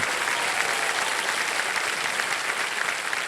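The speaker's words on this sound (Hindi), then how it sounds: "तालियां बजते रहे सोनी जी के लिए" Loud, dense applause from a television quiz show studio audience, a continuous even roar of clapping with no talk over it.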